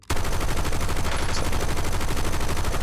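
Automatic gunfire from a gun in the Battlefield video game: one loud, continuous rapid burst that starts abruptly and hammers on evenly for nearly three seconds, with no talking.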